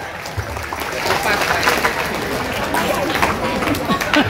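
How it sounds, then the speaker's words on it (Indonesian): Audience applause at a school Isra Mi'raj religious gathering, following a marawis or hadroh group's performance; a steady, dense wash of clapping from a crowd keeps an even level for the whole stretch, with no talk over it. "Tepuk tangan Bu untuk adik kita."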